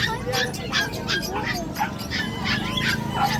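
Dogs yip and whimper in short, high bursts close by, a few barks mixed in, while people talk over them.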